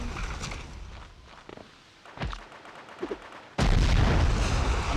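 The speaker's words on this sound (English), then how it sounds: "Or is it a mortar team again? I believe it's a mortar team." Mortar rounds landing in the PS2 war game Cold Winter: scattered dull thumps and pops build toward a sudden loud, sustained blast roar that fills the last stretch, with no talk over it.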